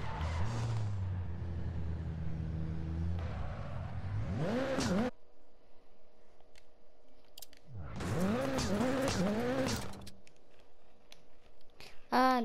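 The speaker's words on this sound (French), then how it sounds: "je vous laisse avec le bruit de la voiture" A rally car in Dirt Rally 2.0 drives hard, with its engine revving up and down through gear changes and bursts of tyre noise. A quieter idling stretch comes between two loud driving passages, and there is no talk.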